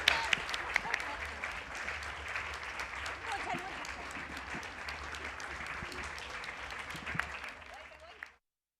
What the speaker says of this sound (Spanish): Así que despedimos a Elia con un fuerte aplauso.